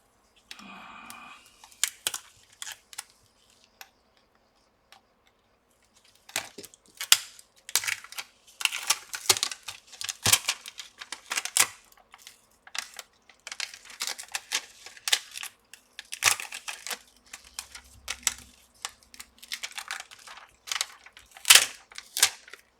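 Plastic trim being pried and unclipped from a Lenovo IdeaPad 330 laptop during keyboard replacement: a few soft clicks, a quiet pause, then a long series of sharp, close snapping and clicking bursts at irregular intervals.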